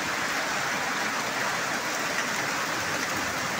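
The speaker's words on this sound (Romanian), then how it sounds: "De 3 minute îi dă cu gheață." Hail falls steadily and densely during a storm in Romania, pea-sized ice hitting the ground in a continuous loud hiss and patter that sounds much like heavy rain, with no talking.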